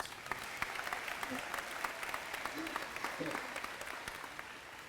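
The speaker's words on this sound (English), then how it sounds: "Give him another round of applause" Audience at a school girls' program grand opening applauding, steady clapping that runs through the whole stretch at a moderate distance, with a voice murmuring underneath.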